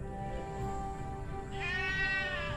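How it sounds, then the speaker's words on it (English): Ranch goats bleating loudly and close by, a sustained wavering harmonic cry that swells and rises into a stronger, higher call partway through, with no talk. "Being interrupted by my goats."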